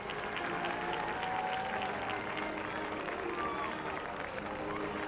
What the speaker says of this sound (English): Please give these MacArthur High School seniors a well-deserved round of applause.